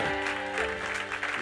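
A church congregation applauding the Lord during a French-language sermon, steady clapping that runs throughout under a sustained musical tone, fairly loud and close.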